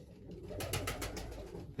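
Racing pigeons coo at their loft during an old bird race, a soft, brief burst of throaty cooing pulses that is close but quiet, with no talking.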